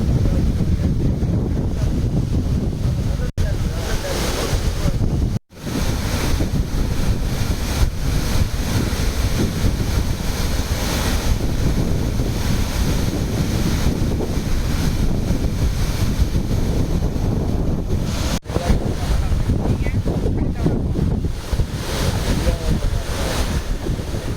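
Floodwater surges over the Nallamman check dam on the flooded Noyyal river, a loud, continuous roar of rushing water mixed with heavy wind buffeting on the microphone, with a couple of brief dropouts.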